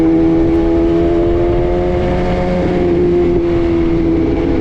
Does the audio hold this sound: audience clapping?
no